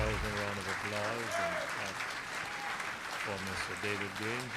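Sustained crowd applause at a Guyanese political campaign launch, with cheering and voices rising clearly over the steady clapping.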